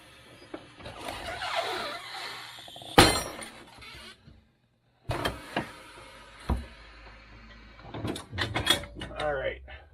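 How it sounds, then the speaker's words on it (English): A tire machine breaks the bead and peels a tire off a Cutlass Convertible wheel, with loud mechanical clunks, squeaks and bursts of rubber strain separated by a short pause, while someone talks intermittently. "Going to break the bead, peel the tire off."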